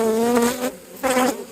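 Loud, steady buzzing of a huge mass of honeybees packed between comb layers in an opened hive, tens of thousands strong, droning close with a brief dip in intensity.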